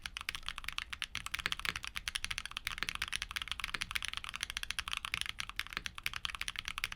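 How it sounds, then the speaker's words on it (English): Heavy Gateron tactile keyboard switches clack under fast, continuous typing, a dense stream of crisp keystrokes heard up close and alone, fairly loud with a steady rapid rhythm. "These are also a bit louder than the LongJings and are a bit pricier too"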